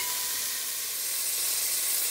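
Sliced onions fry in ghee or butter for mutton korma, giving a steady, close, bright sizzling hiss that runs without a break.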